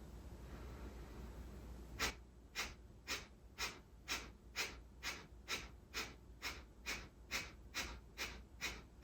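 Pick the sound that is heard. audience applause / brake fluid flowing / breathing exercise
breathing exercise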